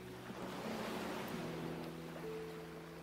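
Waves wash softly and continuously against a seashore in the Wuthering Waves video game, a faint steady surf wash with a low hum running underneath and no talking.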